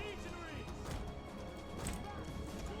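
Cavalry charge clash in Total War Rome 2, a dense, continuous roar of smashing impacts and hoof clatter with crowd-like battle noise, steady and loud throughout with voices mixed in.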